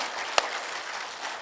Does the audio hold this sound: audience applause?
yes